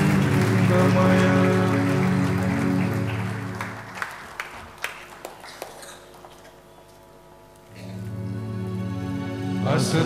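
An audience applauds at an awards ceremony for excellence in science and technology, with loud, dense clapping that fades to a few scattered claps and a near-silent pause, then swells again at the end.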